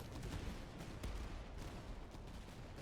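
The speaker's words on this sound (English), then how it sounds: "What a volley from these guys." A musket volley in the Napoleonic-era battle game Master of Command, heard as a dense, rumbling crackle of many distant shots blending into a continuous roar with a few sharper reports poking through.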